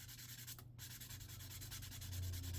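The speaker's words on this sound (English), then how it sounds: "I'm tempted to getting the 240 grit sanding sponge" A 240 grit sanding sponge is rubbed over a 1/48 MegaScale Zaku II plastic model kit, giving quiet, steady back-and-forth scratchy strokes in a fast rhythm, close and alone.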